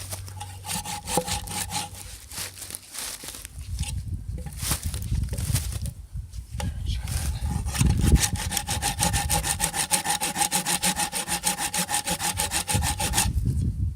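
A Fiskars hand saw cuts through wood in quick, rhythmic back-and-forth strokes, close and loud, with a few irregular pauses before settling into a fast, steady rasp.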